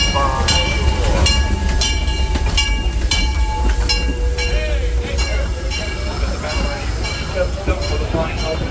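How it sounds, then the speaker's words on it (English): A Disneyland Railroad steam train at a theme park station, with rail clatter and metallic clanks and a steady background rumble, while a loudspeaker announcement plays throughout. "The Disneyland Limited now arriving from a trip around Walt Disney's Magic Kingdom"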